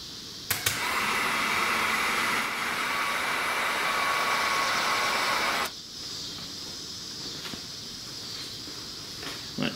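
A heat source cranked up to test heat shield materials gives a steady, loud blowing roar with a few clicks at the start, then drops to a quieter, even hiss partway through, with no talking.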